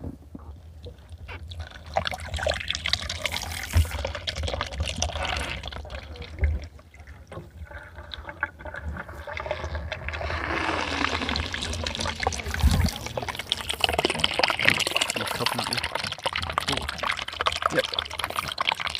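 Water pours through a small funnel into a length of clear tubing as part of a motorhome water setup, a steady trickling and gurgling flow running throughout under nearby speech.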